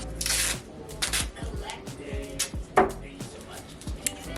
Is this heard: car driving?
no